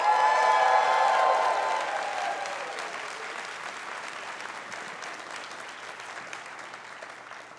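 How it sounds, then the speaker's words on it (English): A conference audience gives a round of applause at a closing ceremony, dense clapping loud at first and then gradually thinning and fading over several seconds. "So can I get a huge round of applause for Source Otter?"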